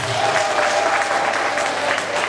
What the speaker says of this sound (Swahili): Pigeni makofi Mheshimiwa Rais